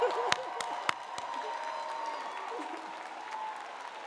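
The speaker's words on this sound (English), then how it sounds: "Everybody else, give these guys a round of applause, please." Outdoor applause for a graduating class at a college commencement, a steady spread of clapping from a large crowd with a few louder claps early on, heard at a moderate distance.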